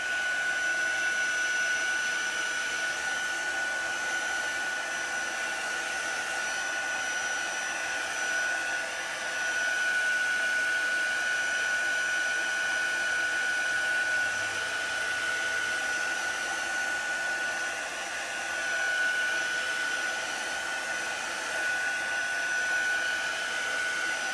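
A heat tool blows steadily and loudly for the whole stretch, drying and heat-setting white chalk paste on a fabric Santa sack, a constant whooshing hum with no talking.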